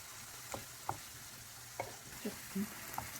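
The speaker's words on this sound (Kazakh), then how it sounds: "Пияз, ет, чеснок, сарымсақ қуырып алдық." A faint, steady sizzle of onion, meat and garlic frying in a pan, broken by a few soft clicks and scrapes of a utensil.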